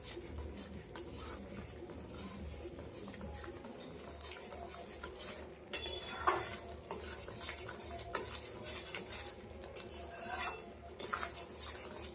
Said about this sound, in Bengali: এবার সমানে নাড়তে থাকবো, নাড়া বন্ধ করলে হবে না, তাহলে লেগে যাবে।